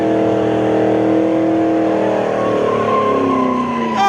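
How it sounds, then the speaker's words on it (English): A Ford Mustang at a Las Vegas car meet takeover revs hard, its engine note climbing steadily in pitch with a loud, close, rising roar and a brief burst at the end. "Oh shit! It's a Mustang!"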